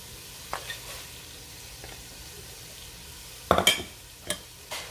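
Tomatoes stirred into frying spice masala for an egg curry with chicken wings, a low quiet sizzle punctuated by a few distinct spoon scrapes and knocks against the pan, close by, without talking.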